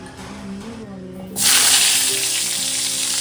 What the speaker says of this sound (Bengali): ততক্ষণে পটলটা ভেজে নিই